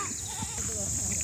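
Goats bleat outdoors on a hillside farm, a few wavering calls rising and falling, moderately close, with a high steady tone beneath and some voices or singing mixed in.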